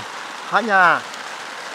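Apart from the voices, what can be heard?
light drizzle rain falling on a tarp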